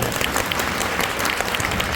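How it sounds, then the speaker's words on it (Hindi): Audience applause fills a speech event hall, a dense steady patter of many hands clapping at once, loud and continuous throughout with no voices over it. "तो उसके लिए तालियां बजा दो"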